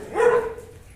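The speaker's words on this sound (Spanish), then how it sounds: "pasó alguien y todos se pusieron a ladrar" A dog barks once at a passerby, a single loud, close bark with a short whimpering tail, heard alone.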